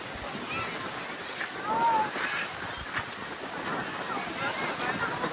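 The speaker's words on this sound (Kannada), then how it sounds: "ಗಾಳಿ ಗಾಳಿ ಮಸ್ತ್ ಬರ್ತೈತಿ." Steady wind rushing and buffeting against the microphone, with a few gusts and faint voices in the background.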